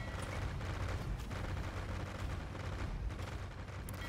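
Age of Empires II galleons fire cannon projectiles in a dense, rolling barrage of booming shots, a continuous rumble of overlapping cannon fire with no voices.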